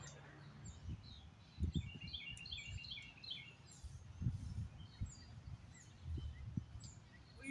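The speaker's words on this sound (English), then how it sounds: "Listen to the birds." Several birds chirp and tweet in bright, quick bursts at a distance, with soft low thumps and rustling nearby.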